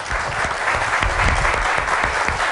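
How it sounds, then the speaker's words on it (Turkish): A crowd applauds a Yörük Efe folk team, dense continuous clapping that stays loud and even throughout. "Valla bir alkış istiyorum"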